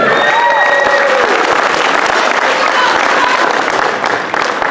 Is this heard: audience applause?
yes